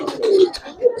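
Racer pigeons, giribaz and silver coloured, coo softly at close range, two low throaty coos with a short pause between, and a faint voice in the background.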